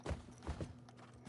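Horse hooves clip-clop in The Last of Us Part 2, a few soft, evenly spaced thuds at a walking pace beneath a low background hum.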